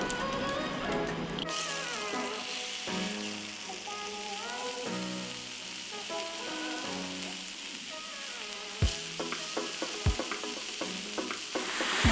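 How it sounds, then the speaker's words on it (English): Thin beef burger patties land on a hot grill plate brushed with oil and sizzle loudly and continuously up close, with a few sharp clanks and taps of utensils toward the end and no talking. "Got a hot grill plate here. I'm going to add some oil. Just brush that so I've got an even coating. And on go my burger patties."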